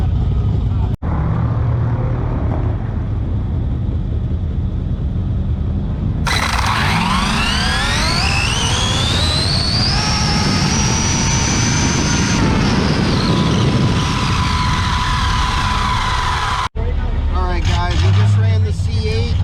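A Spektrum Typhon 6S electric RC car launches on a drag run, its motor whining sharply upward in pitch and fading as it speeds away, over steady outdoor rumble with people talking nearby.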